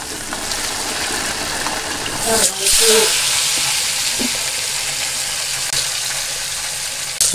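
Marinated chicken frying in a home kitchen pan: a continuous close sizzle and crackle with a louder surge of hissing partway through, and faint background noise throughout.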